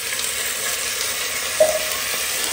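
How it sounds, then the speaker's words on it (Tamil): Onions, green chillies and ginger garlic paste sauté in a hot pan with a steady, loud sizzle and a brief stir of the spoon partway through, with no talk. "இதை சேர்த்து நல்லா வதக்கிடலாம்."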